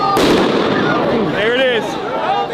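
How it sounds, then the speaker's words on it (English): Flashbangs detonate at a street protest in Los Angeles, opening with one sharp, loud blast that rings out, followed by a tense crowd din with voices calling and shouting nearby. "They're throwing flashbangs up."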